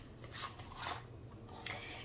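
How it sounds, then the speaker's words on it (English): Soft, quiet riffling bursts of tarot cards being shuffled, three or four quick rasps close by with no talking. "I just wanna get a good shuffle in."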